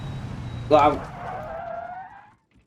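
A car engine in a racing video game stalls: a sharp burst of noise, then the engine note slides downward and fades out over about a second and a half before going quiet.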